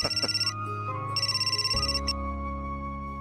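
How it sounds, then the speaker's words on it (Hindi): A telephone rings in a repeating electronic pattern, several bursts over a few seconds, clear and close with no talking. "एक सेकंड, जरा फोन आया।"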